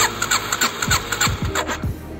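A motorcycle just lifted upright from the ground is cranked by its starter, giving a rapid series of rhythmic, sputtering pulses that never settle into a running idle.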